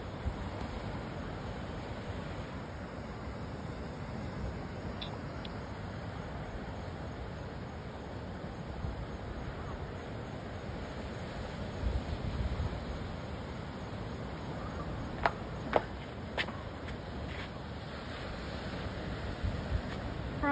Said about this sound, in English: Hear the waves? The waves are loud, yeah.